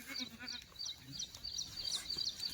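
Kathiawari goats bleat repeatedly in short, wavering calls that overlap one another. The calls are fairly close but soft, set against faint background noise.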